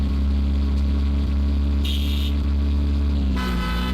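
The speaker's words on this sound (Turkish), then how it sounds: "Kornamızı da çalayım da." Two short horn blasts from a Toyota Vios sound in the driving game Car Simulator Vietnam, standing out over a steady engine hum.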